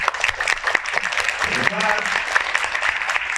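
Classroom or seminar audience applauding themselves, uneven bursts of clapping with scattered loud claps, and voices talking and calling out partway through.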